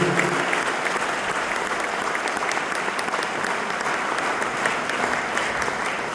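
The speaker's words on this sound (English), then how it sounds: "Let's give them all a big round of applause back there, would you?" An audience applauds 150-year farm honorees at a Texas heritage farm celebration, a dense, steady wash of clapping from many hands that holds at an even loudness throughout with no voices over it.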